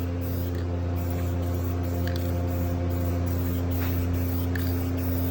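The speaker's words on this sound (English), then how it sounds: "I may end up spray bombing the whole truck." A continuous hissing spray from a spray paint can on a truck body, loud and close, holding steady for several seconds with a few brief breaks and a low hum underneath.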